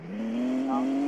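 A car in the Roblox video game drifts, its engine holding a steady, rising tone with a faint tire whine on top, loud and close with no voices over it.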